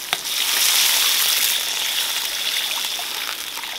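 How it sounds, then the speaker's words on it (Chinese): Chili powder and half a block of Sichuan hotpot base stir-fry in a wok, a loud continuous close sizzle with bright crackling that holds steady as water goes in, with no voices. "把它们炒香炒化了之后加入水"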